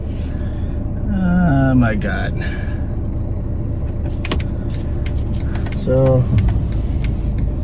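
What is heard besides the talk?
truck passing on street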